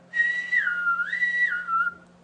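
A person whistles alone, a clear tone gliding down and back up twice as the jaw and tongue drop and lift to lower and raise the pitch, with a faint steady hum underneath.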